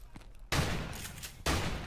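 Gunfire in the video game Modern Warfare Remastered, campaign mission "Charlie Don't Surf": two sharp, loud bursts of shots about a second apart, close and dense.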